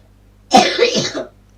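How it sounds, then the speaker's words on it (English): A single rough, harsh cough from a man, close and clear, lasting under a second in an otherwise quiet room. "He's got a bit of a nasty cough."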